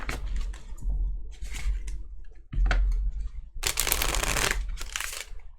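Tarot cards shuffled by hand in bursts, with soft papery riffling and slapping, a couple of louder dense flurries near the end, close and alone without talk.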